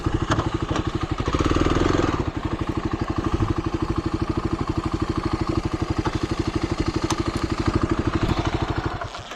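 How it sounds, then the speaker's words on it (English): Ranch dirt bike engine running steadily with a rapid, even thumping pulse, louder briefly near the start, then holding a constant close-up chug throughout. "This is a fun dink around ranch bike, bump around town bike."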